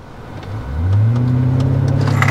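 A BMW E70 X5 4.8i with the N62 V8 launches hard from standstill, its engine rising quickly from a low rumble into a loud, strained, climbing roar heard from inside the cabin.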